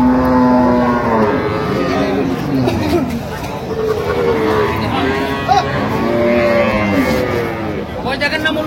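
A Sahiwal cow with her calf moos repeatedly at a village cattle market, the long lowing calls rising and falling over a steady murmur of crowd chatter and voices nearby.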